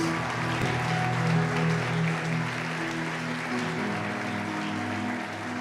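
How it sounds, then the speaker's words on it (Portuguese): A church congregation applauds steadily for several seconds, a dense wash of clapping over sustained keyboard or organ chords. "Pode aplaudir o Senhor mais uma vez?"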